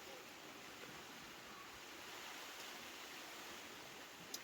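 Heavy winter rain outside a hot tent on a wild camping trip in Scotland makes a faint, steady wash of noise, broken by one small sharp tap near the end.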